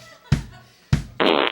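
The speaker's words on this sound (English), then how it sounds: "Yes, the fart." Two short, abrupt fart bursts sound close and loud, followed by a sustained buzzy tone that holds for a moment at the end.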